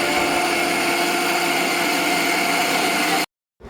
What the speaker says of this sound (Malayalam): അതിൽ കുറച്ച് മൈദയും കൂടി ആഡ് ചെയ്തിട്ട് ആവശ്യത്തിന് ഉപ്പ് ഇട്ടിട്ട് മിക്സിയിൽ അടിച്ചെടുക്കുകയാണ് കേട്ടോ ചെയ്തത്